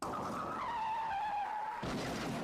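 A car's tires squeal in a long skid with a sustained high screech, loud and close, then a rough burst of noise follows, with no voices.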